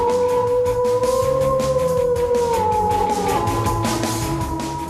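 A wolf howl sound effect opening a college sports show, loud sustained wavering tones that slowly slide downward, with no talk.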